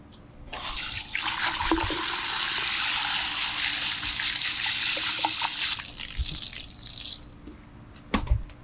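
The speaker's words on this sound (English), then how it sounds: "So we've got this big canister here. We'll give it a rinse real quick." Running water rinses a large filter canister from a garage parts washer, a steady close splashing gush lasting about six seconds before tapering into drips and a final clatter.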